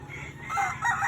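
A gamecock at a Lipa auction crows in a short, close burst, rising and strained, over a low background rumble with no voices.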